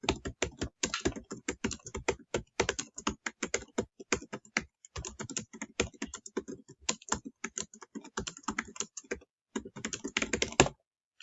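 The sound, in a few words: typing on a computer keyboard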